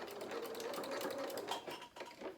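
A sewing machine stitches down a seam allowance on a fabric bear's body, a loud close continuous rapid whirring hum with no pauses.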